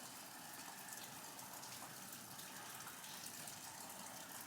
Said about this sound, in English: It just started pouring raining out of nowhere.